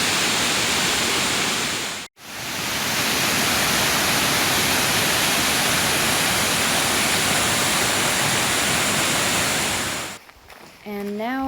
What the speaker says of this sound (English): the mist off the waterfall is really nice